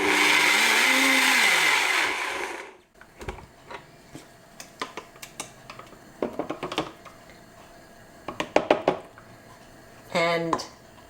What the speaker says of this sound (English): give it a quick pulse in the machine again to mix everything together